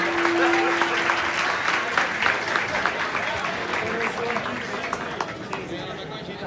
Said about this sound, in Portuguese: Tira uma salva de palmas pro cantor Eminem que veio aqui